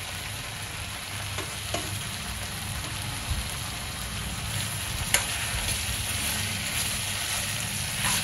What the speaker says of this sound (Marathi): आता आपण यावर बोंबील घालूया.